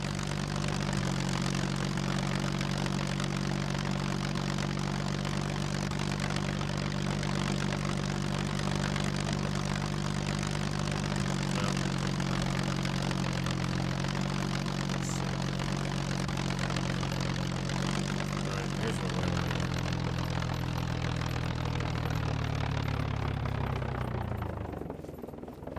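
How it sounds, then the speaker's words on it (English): Float plane engine droning in flight in SCUM, a loud, constant propeller roar with a steady low hum that holds for about 25 seconds before cutting off at the end. "Listen to how loud that airplane is."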